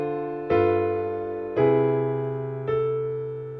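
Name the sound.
piano playing a 2-5-1 progression with voice leading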